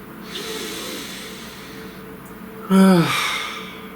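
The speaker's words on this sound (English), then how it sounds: "Please take a nice deep breath" A deep breath, a quiet airy inhale early on, followed by a louder breathy exhale with a voiced sigh near the end.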